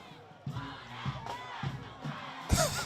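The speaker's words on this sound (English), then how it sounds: "let you hear the crowd, the student section, the cheerleaders, and the band have it rocking" A high school football crowd at Harris Field, Liberty Eylau Leopards vs Bullard Panthers, with student section, cheerleaders and band: loud rhythmic chanting in repeated pulses, ending in a sharp burst of cheering.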